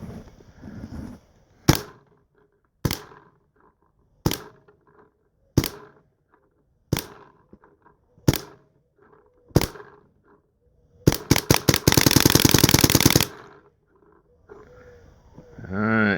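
A Pro edition WGP Karnivor paintball marker fires loud, close, sharp single shots spaced about a second apart, then lets off a fast rattling burst of rapid-fire shots before falling quiet.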